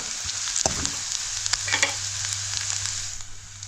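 Goda masala sizzles in hot oil with reddened onion over a wood-fired stove, a steady close hiss with a few soft stirring knocks and scrapes.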